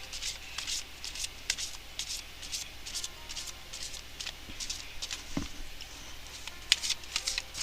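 Romance Angels tarot cards are shuffled in soft, repeated papery riffles and flicks, close and fairly quiet, with light tapping between bursts.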